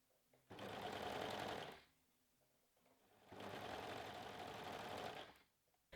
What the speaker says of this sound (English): So I'm using my overlocker, but you can absolutely use a zigzag stitch for this step.